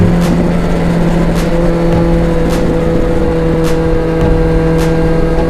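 A Kawasaki Z900 motorcycle cruising on a long highway ride home, its engine a loud, steady drone with constant wind rush and faint periodic thumps from the road.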